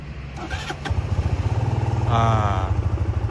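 A Modenas Z15GT motorcycle engine starts after a brief crank and settles into a steady, close idle, with a throttle blip later on; someone talks briefly over it.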